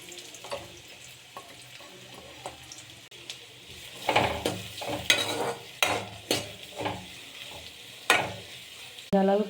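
Chopped onion and green chili frying in hot oil in a kadai, soft sizzling with repeated stirring and scraping strokes that grow louder partway through, ending in a brief clatter.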